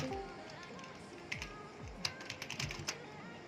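Typing on a computer keyboard, quiet close-up key clicks in irregular bursts that grow busier toward the end.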